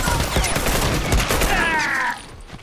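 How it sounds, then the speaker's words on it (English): Bomb explosion in the video game Factions, a loud dense crackling burst of blasts and gunfire lasting about two seconds before cutting off, close and harsh. "He just dropped the bomb."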